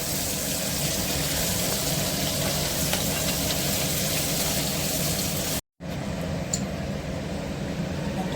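A ground paste of onion, garlic and green chili frying in a pan, a loud, constant sizzle close by that stops briefly at a cut, then resumes.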